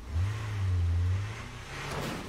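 A car engine revs up in State of Decay 2, a strong low growl that swells, holds for about a second, then eases off and rises again more faintly, with no talking over it.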